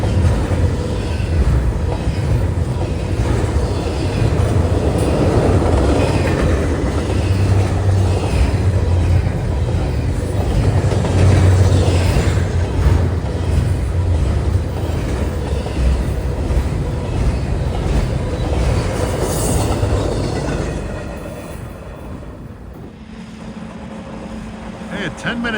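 A freight train carrying mostly steamship company containers rolls past in eastern Pennsylvania, a steady loud rumble and clatter of wagons continuing for over twenty seconds before easing slightly near the end.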